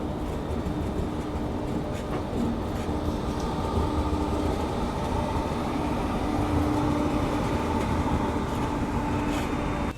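Indian express trains, including the Shramjeevi Express, run side by side on a parallel departure, a continuous loud rolling rumble with rail clatter and a faint steady tone throughout, no voices.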